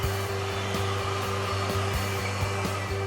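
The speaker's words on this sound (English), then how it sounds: "Use heat on the curves after taping to be sure the filament stays securely in place." A heat gun blows in a steady, loud whooshing drone with a low electrical hum, warming vinyl cutting tape pressed along curves, with faint ticks throughout and no voices.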